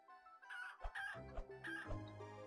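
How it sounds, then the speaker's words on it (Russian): Chickens in the video game Planet Centauri cluck in a quick series of choppy, squawking calls, fairly faint, with one drawn-out crowing note toward the end. "Куры быстрее меня."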